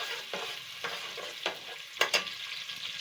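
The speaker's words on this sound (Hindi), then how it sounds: "थोड़ी सी देर इसको हम थोड़ा सा ब्राउन होने देंगे, बहुत ज़्यादा ब्राउन नहीं करना है प्याज को।" Onions browning in hot oil for fish biryani, a steady close sizzle broken by several sharp scraping stirs of the pan, with no talking.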